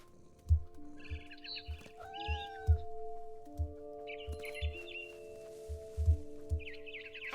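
A cartoon cat meows in a video game, several short mews and chirps repeating over a steady game soundtrack with a thumping beat and sustained tones.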